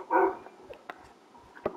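Wolf in Minecraft giving a single short bark, then a few faint, scattered yips and small sounds against quiet, close and soft.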